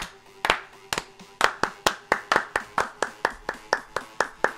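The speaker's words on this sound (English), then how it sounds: "Clap, clap, clap your hands," Hands clap in a steady, even rhythm, about a dozen sharp, close claps roughly every third of a second, alone with no talk over them.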